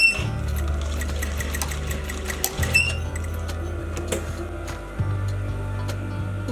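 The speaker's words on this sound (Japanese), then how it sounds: "縫い代側を縫ってやります。" A sewing machine stitches along a pocket seam allowance in steady runs of rapid mechanical ticking, stopping briefly twice before starting again, close and clear.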